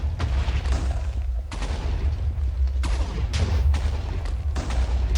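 Repeated explosions blowing up blocks in the Nether in Minecraft 1.16, a rapid series of booming blasts one after another with a deep rumbling low end throughout.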